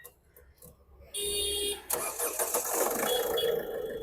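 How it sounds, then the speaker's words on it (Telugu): A 2016 Ford Figo Aspire Titanium car engine turns over and settles into a steady, close running rumble after a brief quiet moment and a short mechanical whir. "ఇంజన్ స్మూత్ ఉంది సార్"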